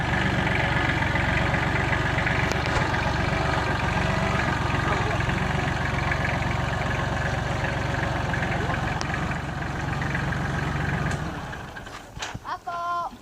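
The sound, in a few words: tractor engine idling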